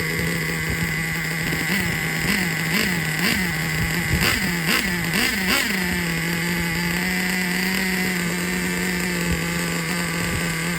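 A nitro-powered Traxxas Revo RC car engine with a loose glow plug runs at a steady high-pitched idle, broken by a quick series of short throttle blips midway before settling back to a constant whine.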